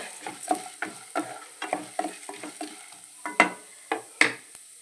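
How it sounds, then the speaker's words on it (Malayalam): Urad dal frying in hot oil with a handful stirred in a pan: steady sizzle broken by repeated scraping stir strokes, about a dozen brisk pulses, close and moderately loud, no voices. "ഒരു കൈപ്പിടി ഉഴുന്ന് പരിപ്പ് നന്നായിട്ടൊന്ന് പൊരിയട്ടെ"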